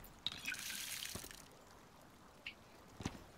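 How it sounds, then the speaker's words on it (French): A watering sprinkler sprays water in the survival video game Icarus, a soft hissing spray at the start followed by scattered faint drips and splashes, with quiet game ambience around it. "Ah, mais ça arrose tout."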